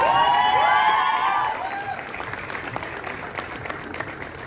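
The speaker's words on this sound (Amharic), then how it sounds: "ጭብጨባው እዚህ ጋር ድምቅ ይበላል።" Loud applause from an audience at a film event, with shrill whistles and cheers rising over the clapping at first, then settling into steady, dense clapping that carries on to the end.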